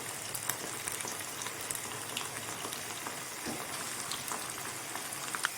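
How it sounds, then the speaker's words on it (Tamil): Cauliflower frying in hot oil, a steady, fairly quiet sizzle and crackle like light rain, continuous with no talking. "காலிஃப்ளவர் எடுத்து ஃப்ரை பண்ணி வச்சுக்கலாம்."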